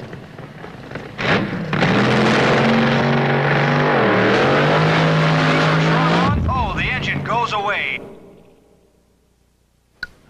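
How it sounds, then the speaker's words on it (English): A Top Fuel dragster run by Cole and Quinn at a 1971 drag race roars at launch, a loud, sustained blast lasting several seconds before cutting off, followed by voices and faint sounds. "Top Fuel dragster of Cole and Quinn."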